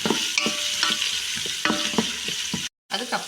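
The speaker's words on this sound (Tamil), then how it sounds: "அதோட இந்த பீ ஆனியன்ஸையும் சேர்த்துக்கிறேன். இது கொஞ்சம் நல்லா வதங்கட்டும்." Onions sauté in a hot pan for yellow rice, a continuous sizzle broken by repeated scraping stirs of a spoon, with a brief silent gap near the end.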